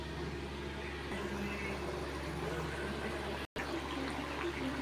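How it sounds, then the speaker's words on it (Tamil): Tamarind water sweetened with jaggery boils steadily in a pan, giving a continuous rushing, bubbling hiss throughout with a brief cut-out near the end. "நல்லா கொதிச்சு வந்துடுது"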